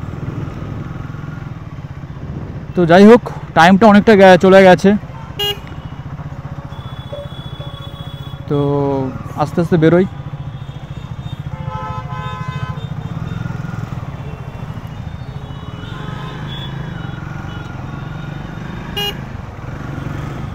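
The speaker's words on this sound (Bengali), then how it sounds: "তো ভিড়টা দেখতে পাচ্ছ, জ্যামটা দেখতে পাচ্ছ বন্ধুরা, কি জ্যাম এই টাইমটা" Kolkata evening traffic jam where a motorcycle rider sets off on a newly delivered bike: a steady engine and road drone with several loud, harmonic car and motorcycle horn honks in bursts, near and far, under a man's speech.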